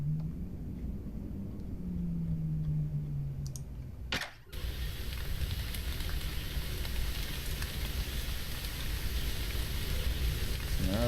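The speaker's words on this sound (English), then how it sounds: "So now it's raining." Steady rain begins falling in the video game The Moon Sliver, a dense, even hiss that starts abruptly after a brief gap and continues loud and unbroken.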